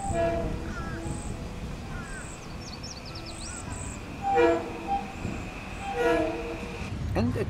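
A Metro commuter train passes at a grade crossing with a steady rail rumble, sounding several short horn blasts midway, while crows caw in the background.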